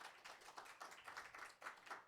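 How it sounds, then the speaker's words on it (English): An open mic poetry audience claps for a first-time reader, a short, dense burst of applause heard faintly and at a distance, with no talking. "Another round of applause for first-time reader, Kalina"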